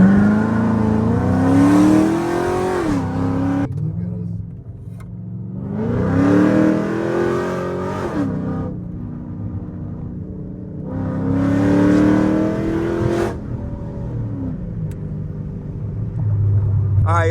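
A Chrysler 300C with newly fitted paddle shifters accelerates in repeated bursts, its engine climbing in pitch through each gear before easing off, three loud surges separated by quieter cruising rumble.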